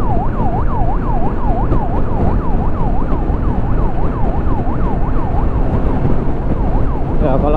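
A fast wailing ambulance siren cycles up and down repeatedly over loud road and engine noise, close and continuous.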